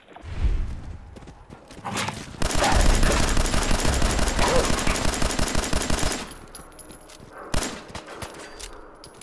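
Scoped rifle gunfire in Fallout 4 during combat: a loud, dense stretch of rapid shots and impacts lasting several seconds, with scattered single bangs and thumps before and after.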